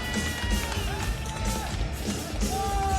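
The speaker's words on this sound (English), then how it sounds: "Crowd here letting Brandon Soto know how happy they are with the performance" An arena crowd cheers and whoops for fighter Brandon Soto after his fight, a steady roar of many voices with scattered yells rising above it throughout.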